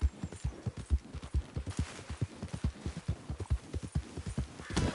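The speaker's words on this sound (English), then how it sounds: "Mientras voy en el caballo." Horse hooves clip-clop in a rapid, steady gallop while riding in Red Dead Redemption 2, loud and continuous throughout with no talk over it.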